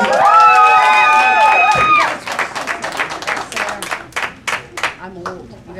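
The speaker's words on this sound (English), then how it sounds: "Nice round of applause for number 1," An audience applauds and cheers for a singer at a live show after a sustained musical note ends, with scattered claps and whoops that thin out into separate hand claps while a voice speaks.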